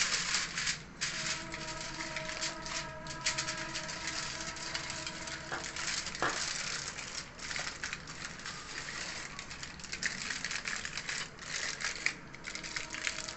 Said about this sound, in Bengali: এবার ফয়েল পেপার দিয়ে পেঁচিয়ে দিচ্ছি।